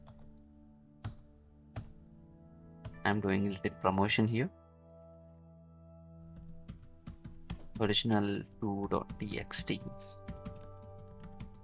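Keyboard typing at a computer while working in a Linux terminal: scattered, light keystroke clicks come in short bursts, partly under a person talking.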